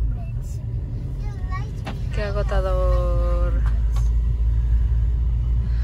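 A car drives home after a hot beach day, its interior rumble steady and close. Someone speaks briefly over the road drone.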